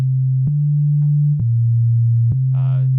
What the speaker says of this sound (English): So here now we have a bass line.